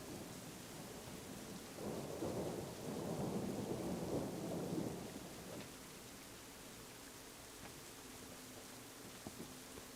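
A rumbling roll of thunder swells and fades over steady rain in a storm scene from the video game Syberia The World Before, with no speech over it.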